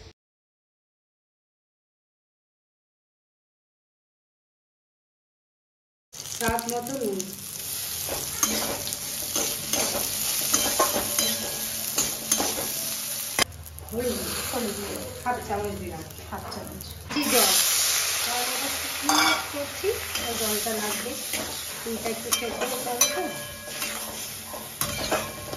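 Jujubes tossed into hot oil with aromatic tempering spices, giving a loud, steady sizzle and hiss with stirring scrapes. A voice talks over it, and the first six seconds are silent.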